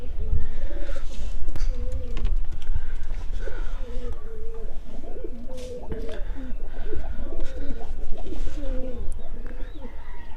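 A pair of pigeons kept in a home loft coo repeatedly up close in soft, warbling phrases over a low rumble, while a person talks throughout.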